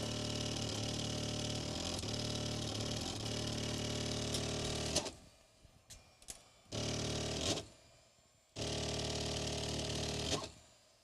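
3D printer running in a workshop, its motors buzzing in loud, sustained bursts separated by abrupt quiet gaps and short whirs, fairly faint overall.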